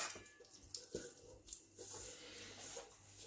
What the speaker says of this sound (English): We're gonna put some water inside